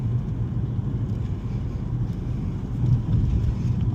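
Steady low car rumble while driving to a gas station, a continuous engine and road drone that swells slightly near the end, with no voices.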